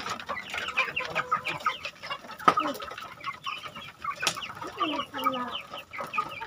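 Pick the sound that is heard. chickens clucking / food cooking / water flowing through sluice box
chickens clucking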